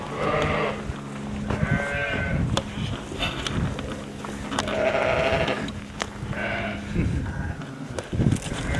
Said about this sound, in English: On the way over, we'll just go and see how these new lambs are doing.